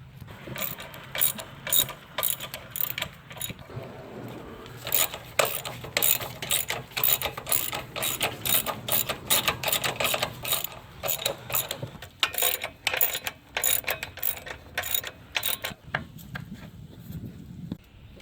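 Engine mount bolts on a 2017-2020 Nissan Rogue 2.5L being tightened with a ratcheting wrench: repeated rapid ratchet clicks in bursts, close and clear, with no talking.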